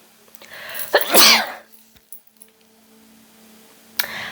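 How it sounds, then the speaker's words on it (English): A single sharp sneeze bursts out close by, followed by a few quiet clicks and shuffling sounds and a brief rustle near the end. "I washed my hair and been sneezing ever since."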